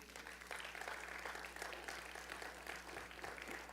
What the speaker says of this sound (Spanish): Un aplauso al Señor por eso.